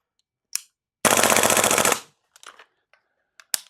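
Airsoft gas blowback rifle firing a rapid burst of about a second, sharp and loud at close range, with single clicks and clatter before and after.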